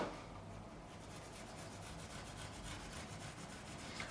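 A file rubs steadily along the fret edge bevels of a Gibson 2014 Anniversary Melody Maker guitar, making quiet, continuous rasping strokes close by with no talk.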